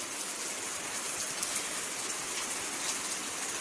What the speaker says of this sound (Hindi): उसके बाद से बरसात शुरू हो गई है।